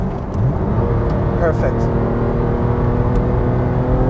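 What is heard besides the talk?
Porsche 996 GT3 engine driving on the Nürburgring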